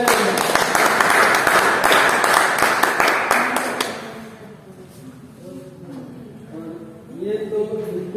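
Loud applause from an audience at a company meeting in Bongaigaon, Assam, with dense clapping for about four seconds that fades out, followed by someone talking.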